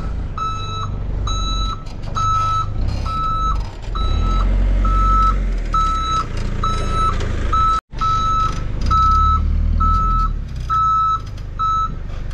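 A dump truck reverses on a farm, its backup alarm beeping in a steady, evenly spaced series over a loud rumbling diesel engine, close by and without talk.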